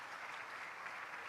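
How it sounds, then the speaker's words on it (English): An audience at the third international PEN-Plus meeting on noncommunicable diseases claps steadily to welcome children arriving with a message. The applause is a dense, even wash of many hands, moderately loud and unbroken throughout. "Can we please clap our hands for them?"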